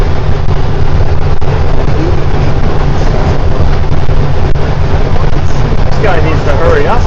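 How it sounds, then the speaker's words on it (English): Loud, steady wind noise rushes past while riding, a constant close roar with a low rumble beneath it that never lets up. "I don't like listening to the wind all the time."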